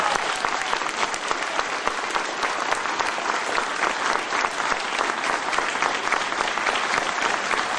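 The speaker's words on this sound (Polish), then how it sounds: "Gorące brawa!" An audience at an award ceremony applauds a teacher, coach and athletics trainer, with steady, dense clapping that holds at an even level throughout.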